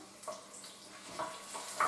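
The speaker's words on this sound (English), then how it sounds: "Can you hear the sizzle?" Soft, quiet sizzling of garlic frying in oil, with faint crackles and small spits of hissing over a couple of seconds.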